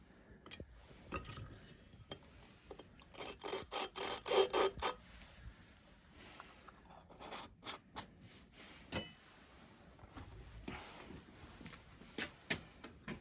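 Repeated gritty rubbing and rasping strokes as an engine valve for a 427 big block is lapped by hand, close and fairly quiet, coming in irregular bursts as it is turned back and forth.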